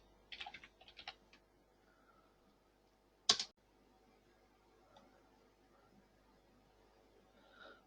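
Keys clatter on a computer keyboard as a label is entered in electric field simulation software: a quick burst of keystrokes, then one sharp, loud key press, with the room quiet around them.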